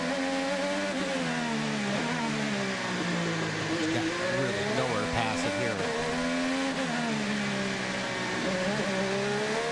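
IndyCar race cars accelerate hard off corners, their engines revving steadily and loudly with rising pitch sweeps, a continuous roar with no talking over it.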